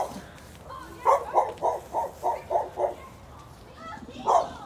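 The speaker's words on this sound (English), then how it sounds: "That joyful dog that loves to bark." A dog barks during a family Easter egg hunt: a quick run of seven evenly spaced, mid-loud barks, then a pause and one more bark.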